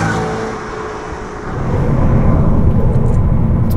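A BMW E92 M3 with its 4-liter V8 passes by fairly quietly, a low, steady engine and road rumble that swells midway and holds at a moderate level, with no talking.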